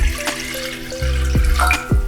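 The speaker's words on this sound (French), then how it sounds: "L'eau." Water pours into a container for matcha syrup for Japanese kakigori shaved ice, a short, steady, close trickle with a few splashy drips.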